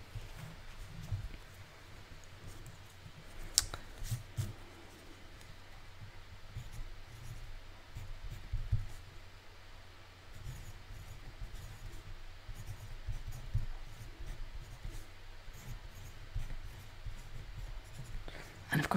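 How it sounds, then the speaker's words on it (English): A pencil writes on a pad of paper in a quiet room, a long run of soft, close scratching and scribbling strokes with small taps and pauses between words, no voice present. "what I might do as well is grab a pad of paper and write down"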